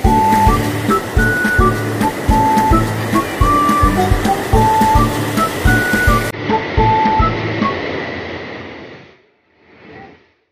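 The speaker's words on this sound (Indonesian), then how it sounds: "Nah ini sungainya, sungainya sangat besar sekali" A very large river runs over big boulders below a bridge at a recreation park, giving a loud, steady rush of water with faint clicking over it that drops away abruptly near the end.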